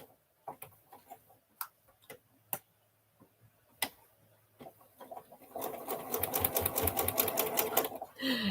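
A domestic sewing machine stitches quilt pieces for crumb blocks, first a few soft isolated ticks and clicks, then from about halfway a steady rapid needle chatter that runs close and loud to the end.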